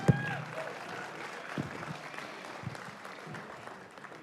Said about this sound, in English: Give Craig a big round of applause.